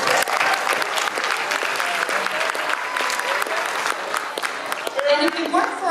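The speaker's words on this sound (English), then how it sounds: "So let's give them a round of applause." Audience applause for a festival's technical committee fills a big tent, a dense steady wash of many hands clapping throughout, with some crowd voices and a faint tonal sound rising near the end.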